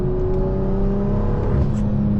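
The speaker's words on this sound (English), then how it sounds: "like phew of the turbo" An 800hp BMW 340i accelerating, a loud, close engine drone with a rising turbo whir and a steady harmonic hum over about two seconds.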